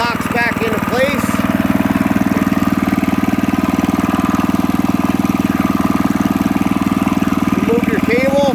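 A Kohler engine on a Lickity log splitter runs steadily at close range, a loud continuous idling drone with a rapid firing pulse throughout.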